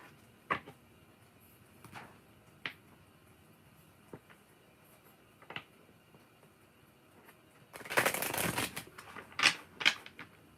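Tarot cards being shuffled and handled during a reading: scattered soft flicks and taps, then a dense riffling burst near the end, close and fairly quiet.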